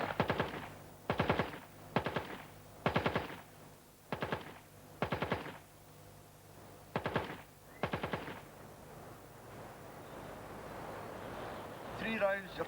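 A gun fired on a shooting range: nine sharp, evenly spaced shots about a second apart, followed by a few seconds of rustling background noise, with a voice briefly present.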